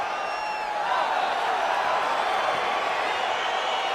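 A crowd in the EA Sports UFC 4 game cheers and whoops as a fight begins, a dense steady roar with a few rising shouts early on.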